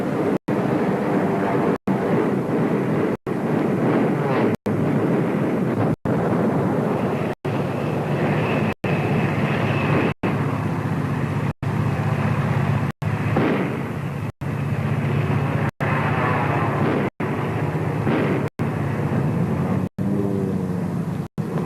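Big warship heeled over and racing at 30 knots to dodge dive bombers, a continuous heavy roar of engines and rushing water with aircraft noise, broken by regular sharp cuts, and no speech.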